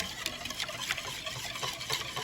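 Thickening milk-based mixture is stirred in a bowl and poured, producing soft wet sloshing and liquid trickling at low volume, steady and close with small irregular splashes throughout.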